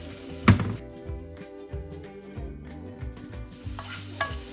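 Garlic and onion fry in a pan with a soft ongoing sizzle, punctuated by a sharp knock early on and scattered scraping clicks of stirring, all close and moderately loud.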